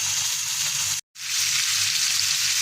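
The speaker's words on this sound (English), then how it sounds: "we just fry them 2 minutes on a side" Kudu fillets fry in a hot cast iron pan with a steady, close sizzle that breaks off for a moment and then resumes.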